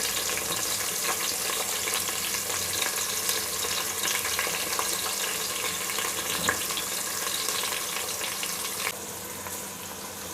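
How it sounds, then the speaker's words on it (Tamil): Crumbled onion pieces go into a hot pan for a South Indian Vellore biryani and fry with a steady, dense sizzle, loud and close throughout, with a slight drop in intensity near the end. "அந்த வெங்காயத்தை கொஞ்சம் இப்படி உதுத்து சேர்த்துக்கலாம்."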